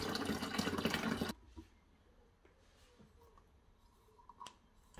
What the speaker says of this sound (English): Fill up the tank with cold water.